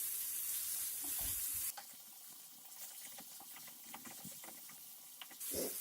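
Tomatoes fry in a pan for Kerala-style rasam, with a soft steady sizzle and faint stirring taps, quiet and close throughout.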